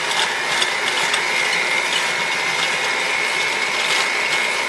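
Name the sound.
electric mixer combining cake batter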